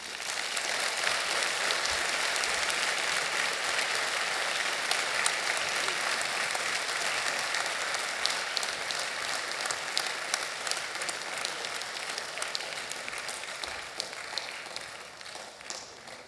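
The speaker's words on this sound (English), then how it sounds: "I want you to give them a round of applause" Sustained audience applause at a Crown Forum event on November 9, 2017, a dense steady wash of many hands clapping for the full span, with cheering that fades slightly toward the end.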